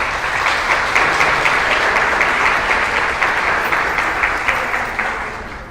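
Audience applause at a county fair royalty contest, a dense wash of many hands clapping steadily for several seconds before tapering off near the end.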